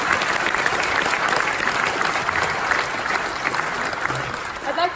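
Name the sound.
graduation audience applause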